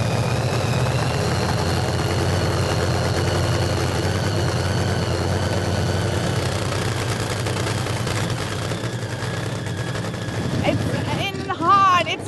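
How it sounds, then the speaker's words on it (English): Loud, rough nitro funny car drag racing engines idle and rumble continuously during warm-up with crackling, gunfire-like bursts, voices faintly present, ending in a brief burst of noise. "Watching the teams warming up the engines is always a favourite with drag race fans"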